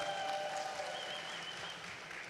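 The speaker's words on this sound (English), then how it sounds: "Big round of applause for every Spider-Man out there today" Brief applause from a comic con panel audience cheering Spider-Man cosplayers at MCM London Comic Con, a soft, distant patter of clapping with no voices.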